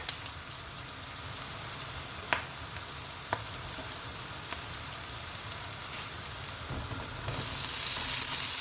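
Parrot fish masala sautéing in a pan, a steady close sizzle with faint crackles and a few sharp clinks, growing slightly louder near the end, with no one talking.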